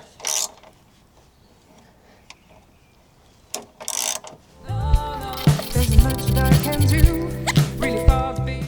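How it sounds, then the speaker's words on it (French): Work on a Mazda MX-5, unscrewing a part by hand: scattered faint clicks and knocks at first, then a dense burst of ratcheting, creaking and metallic turning sounds close up in the second half. "Donc, on dévisse celle-là."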